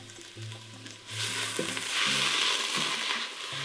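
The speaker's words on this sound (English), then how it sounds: "I'm just letting this veggies cook down" Chopped vegetables for chili cook down in a hot pan with a steady sizzle and frying hiss. Occasional soft scrapes and knocks of stirring come through, swelling louder toward the middle.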